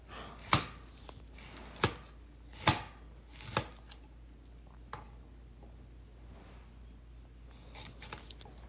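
A knife chops okra on a board in a few sharp, separate cuts spaced about a second apart, close and crisp, then slows to a couple of faint taps. No one talks.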